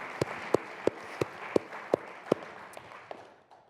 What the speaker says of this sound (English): big round of applause for all of our partners